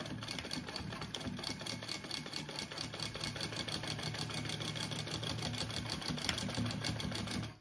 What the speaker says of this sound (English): I'm gonna do another little row of stitching for that extra support there